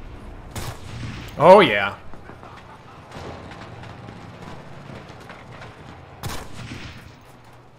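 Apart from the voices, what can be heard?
rifle gunfire in the video game Enlisted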